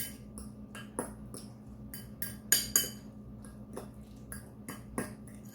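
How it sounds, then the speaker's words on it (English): Utensil stirring egg filling with sweet pickles in a bowl, giving a run of light clinks and taps against the dish, a few sharper knocks standing out, with no talking. "Alright, just stir it around."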